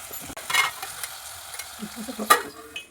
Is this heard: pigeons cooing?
no